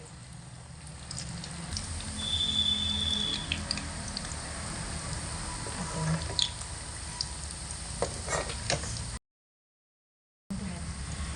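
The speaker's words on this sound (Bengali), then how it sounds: "এরকম এবড়ো খেবড়ো করেই কিন্তু নাস্তাগুলোকে ছেড়ে ভেজে নিতে হবে" Uneven pieces of snack dough frying in oil over low to medium heat, giving a steady soft sizzle with occasional light clinks, then a brief dropout near the end.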